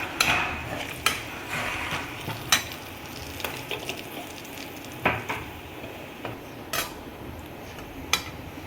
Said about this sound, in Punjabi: ਇੱਕ ਚਮਚ ਆਪਾਂ ਜੀਰੇ ਦਾ ਪਾਇਆ ਹੁਣ ਆਪਾਂ ਇਹਨਾਂ ਨੂੰ ਰੋਸਟ ਕਰ ਲੈਂਦੇ ਹਾਂ